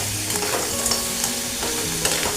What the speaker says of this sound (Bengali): এগুলো সব একসাথেই নাড়া হয়ে যাবে